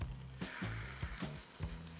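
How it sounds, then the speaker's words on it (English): Fish searing skin side down in a hot pan, a loud, steady, close sizzle with soft low thumps recurring through it. "Hear that sizzle?"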